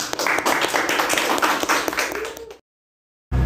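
Applause at an Indonesian campus alumni podcast session: a burst of many hands clapping at once, steady and fairly loud for about two and a half seconds, then cut off to silence.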